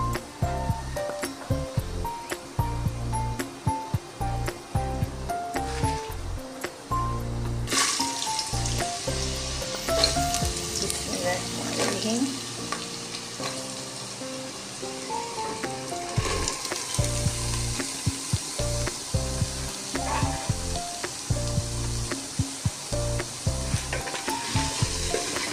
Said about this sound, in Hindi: अब हम इसमें ये अपनी मूली डाल देंगे।